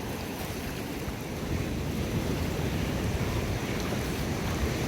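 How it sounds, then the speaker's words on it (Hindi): Seawater washes in among the rocks on the shore at Tairua, New Zealand, making a steady, broadband rushing wash with constant wind noise and no distinct breaks between surges. "तो ये देखो समुद्र का पानी सीधा यहीं रॉक्स के बीच में आ जाता है।"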